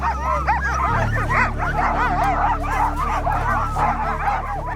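Sled dogs on an Arctic expedition yelp, whine and bark in a dense, continuous chorus close by, many animals overlapping excitedly while a low steady hum runs underneath.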